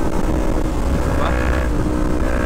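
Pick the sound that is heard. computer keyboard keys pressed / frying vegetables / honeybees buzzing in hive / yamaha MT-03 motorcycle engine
yamaha MT-03 motorcycle engine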